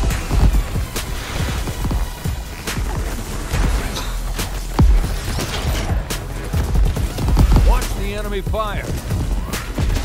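Gunfire from enemy forces in Crackdown 3 pops and rattles in scattered bursts amid explosions and busy game noise, with a voice speaking briefly near the end.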